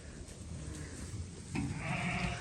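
Sheep bleating in a lambing shed, a steady murmur of the flock giving way to a louder, nearer bleat toward the end.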